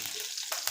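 Curry leaves hit hot oil with a brief, steady hiss of frying, a close sizzle with small crackles over under a second.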